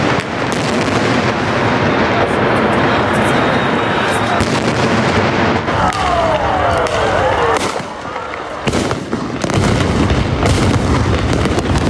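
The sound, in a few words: gunfire during protest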